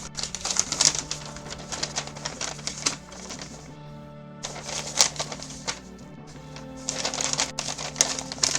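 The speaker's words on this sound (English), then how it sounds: "Okay, I am just crumpling paper." Paper is crumpled in repeated short, crackling bursts close to the microphone, separated by brief pauses, with a steady low hum underneath.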